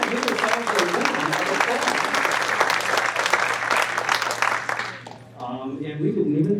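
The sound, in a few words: audience applause for teachers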